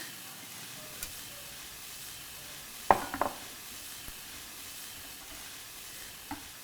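Gyro meat cooks in a pan with a splash of white wine, giving a faint, steady sizzle close by, with a few soft clinks and stirring knocks near the middle.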